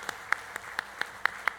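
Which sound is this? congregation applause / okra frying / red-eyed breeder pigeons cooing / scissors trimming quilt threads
congregation applause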